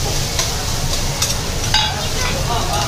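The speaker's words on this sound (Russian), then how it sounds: "Смотри, как жарит." Oil sizzles and spits steadily as food fries at a food court in an AEON shopping centre in China, with a dense frying hiss close by and a few sharper crackles over a low mall hum.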